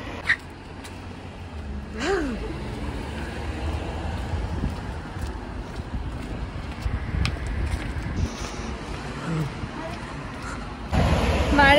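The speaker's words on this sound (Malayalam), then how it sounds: "ചാറുന്നുണ്ട് നല്ല കാറ്റുണ്ട്" Strong gusty wind blows outdoors during a light drizzle, a steady close rumble against the microphone with a louder gust near the end and faint voice-like sounds in the background.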